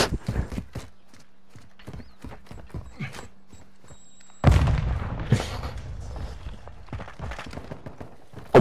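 A shock charge in the video game Modern Warfare 2 bursts with a sudden loud blast midway, followed by crackling, rumbling debris and scattered gunfire, after a quieter stretch of footsteps and faint clatter.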